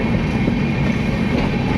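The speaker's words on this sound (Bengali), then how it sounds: "আর একটা ট্রেন ঢুকছে" A train rolls into Bhadrak station, a steady low rumble of wheels and engine with a faint rhythmic clatter, continuous and fairly close, with no voices over it.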